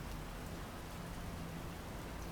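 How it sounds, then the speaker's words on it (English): Steady downpour of rain hissing across a surface, a dense, even wash of drops that stays constant and fairly faint throughout, with no voices. "I was walking through a downpour"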